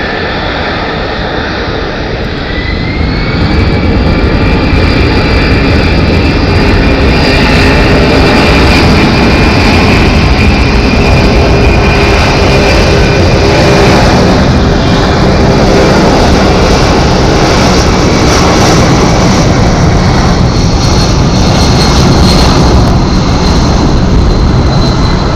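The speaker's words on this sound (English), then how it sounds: "Heavy C-17. This is going to be incredible departure." A Boeing C-17 heavy military jet thunders down a short stretch of runway at Phoenix Sky Harbor Airport on takeoff, a loud, sustained broadband engine roar that swells after a few seconds and holds steady, with whining tones rising through it.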